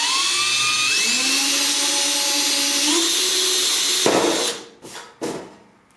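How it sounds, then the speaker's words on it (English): A power drill whines steadily, its pitch stepping as it bores through sheet aluminium into a rib on a Sonex kit aircraft elevator, then cuts off into a few short bursts near the end. "I'm just going to drill it all at once right through this and into the rib"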